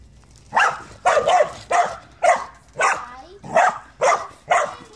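A dog barks eight times in a steady rhythm, each bark loud and close, with short gaps of quiet between them.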